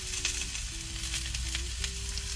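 Onions, cabbage and green beans frying in a pan for vegetable soup, a continuous close sizzle with crackling pops and a faint steady hum underneath.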